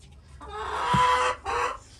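Barbazoo hens in a backyard flock give a run of close, throaty clucks and a drawn-out call, pausing briefly before a final cluck.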